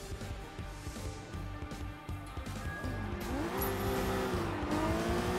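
Racing cars in Sleeping Dogs roar close by with steady engine drone, and a rising, bending tire squeal cuts in during the second half as the car skids through a turn; no talk over it.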